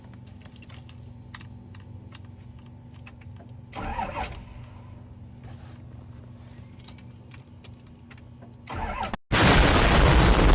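Keys rattle and jingle in a quiet cab, then the engine of a Ford F350 pickup, dead until now, suddenly cranks and bursts into a loud, close roar at the end.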